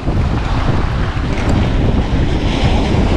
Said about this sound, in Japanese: もう風がすごくてもう釣りならんこれ